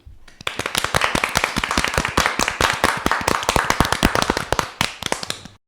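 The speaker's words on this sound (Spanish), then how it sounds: "estas chicas se merecen un fortísimo aplauso" A small studio group claps for guests at the end of a Spanish podcast about the Iberian wolf, giving several seconds of sharp, distinct, close hand claps at a quick uneven pace before stopping.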